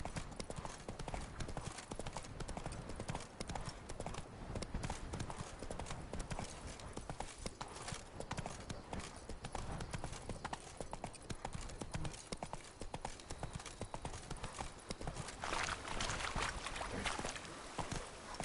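Hoofbeats of the horse Roach in a video game, a steady rapid clip-clop close by that keeps up without pause, with a dense rustling backdrop and no voices.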